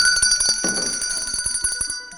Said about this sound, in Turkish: Sarı masa böyle saniye farkıyla zili hızlıca çaldı